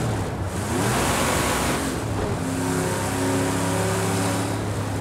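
Vintage V8 race car from Project Cars 2, about 2,799 pounds, droning steadily at mid revs with a brief dip and climb in pitch, continuous engine tone and a wash of broadband road or wind noise, no voices.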